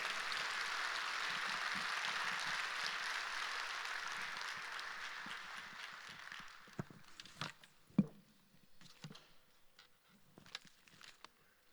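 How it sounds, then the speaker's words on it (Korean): A church congregation at a Sunday service applauds to welcome the preacher, dense clapping for about six seconds that fades into scattered individual claps and taps. "우리 나오실 때 한번 뜨겁게 우리 박수로 우리 환영하겠습니다"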